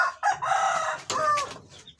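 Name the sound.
broody kabakard hen in a breeding pen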